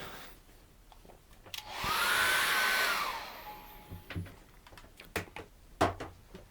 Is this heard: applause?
no